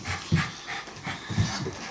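A dog panting right after a shower: quick, close, rhythmic huffing breaths repeating in short bursts, fairly loud, with no talking over them.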